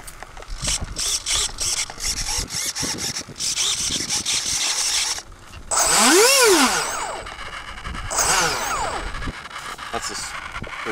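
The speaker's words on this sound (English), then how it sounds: "Track servos that are making that noise." Faulty track servos on an A-10 model grinding in short buzzing bursts with rising and falling whines, loud and close, mixed with clicks and handling noise.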